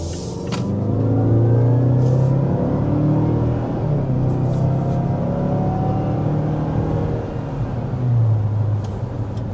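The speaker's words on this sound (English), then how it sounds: "there we are going up to 60 miles per hour" A 2025 Mazda CX-5 turbo accelerates hard up to 60 mph, giving a loud, steady engine drone and road rumble that swell and hold throughout, with no talking.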